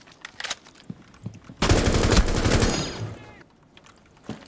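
Gunfire in Rainbow Six Siege opens with a few isolated shots, then a loud sustained automatic burst of about a second and a half, fading into scattered clicks and one last shot.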